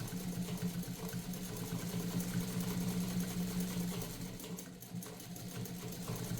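Morse DuoMatic sewing machine stitching a wide zigzag, a steady close whirring hum that runs on throughout with no talk.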